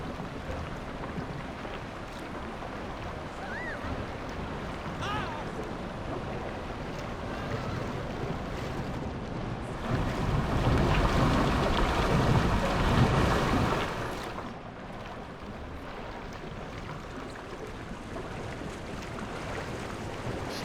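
A boat ride at an amusement park, with a continuous rush of water and wind noise, swelling louder for a few seconds midway before settling back to a steady wash, with no talk.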